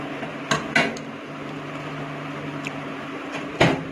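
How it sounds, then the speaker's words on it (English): A metal oven rack goes into an IFB microwave oven while tandoori chicken is being cooked at home: a few sharp metallic clanks and rattles over a steady low hum, with one louder clatter at the end. "So now I will place the rack into the IFB oven."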